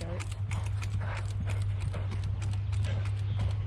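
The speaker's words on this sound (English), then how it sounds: "Well, this horse is way back there." Horse hooves clop in a quick, steady rhythm, close and clear over a low engine-like hum, with people talking softly in the background.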